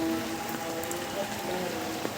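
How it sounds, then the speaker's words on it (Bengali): Heavy rain pours down steadily beside a farm fish pond, a dense, even hiss of falling water with no voices. "প্রচুর বৃষ্টি।"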